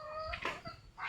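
A chicken clucking in a short, faint burst of a few soft calls, with quiet rural background noise around it.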